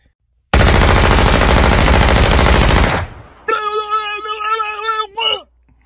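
Sustained automatic gunfire blasts loudly for several seconds in a game firefight, then gives way to tonal music-like sounds.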